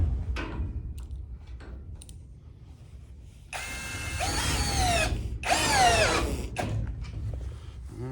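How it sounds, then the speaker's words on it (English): A power drill drives screws into a barn stall built from old hog panels, with two long, loud whirring bursts after a stretch of quieter clicks and handling noise, with no voices. "So we can only go so far with the drill"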